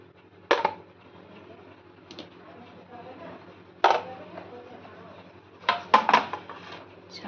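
A spoon and dishes clatter in a home kitchen where kofta and custard are being made: a few scattered clinks and knocks, the last of them clustered together, with people talking softly between them.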